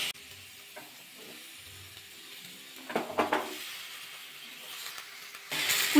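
Malabar spinach goes into a hot pan of fried spices for a fish-head dish, setting off a faint steady sizzle with a brief cluster of crackling bursts midway and a louder hiss rising near the end.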